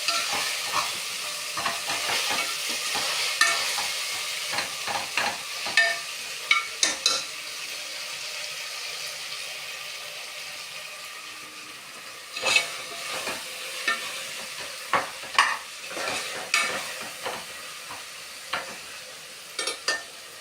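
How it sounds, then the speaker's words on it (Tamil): Biryani masala stirred in a pan, a spoon scraping in repeated clustered strokes over a soft steady sizzle and hiss, fairly close with no voices. "மொத்தமாக எல்லாத்தையும் நம்ம நல்லா"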